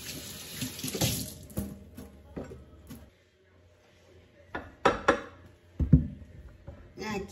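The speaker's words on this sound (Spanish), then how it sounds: "Vamos a lavar los manguitos." Tap water runs into a kitchen sink as mangoes are rinsed for mango agua fresca, with close, uneven splashing bursts and handling knocks, a brief near-silent pause midway, then renewed splashes.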